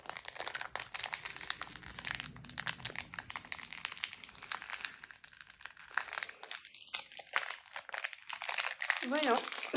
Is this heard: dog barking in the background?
no